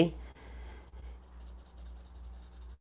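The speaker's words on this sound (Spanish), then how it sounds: "aquí voy difuminando poco a poco" A pencil held on its side softly shades and blends a pear drawing on paper, giving a quiet, continuous scratchy rubbing that carries on steadily throughout.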